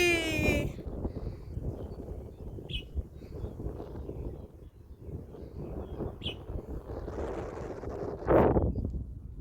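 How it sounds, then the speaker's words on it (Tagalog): Wind on the Devil's Peak hiking trail in Hong Kong, blustery gusts buffeting the microphone in a continuous low rumble, with a brief high chirp early on. "So windy."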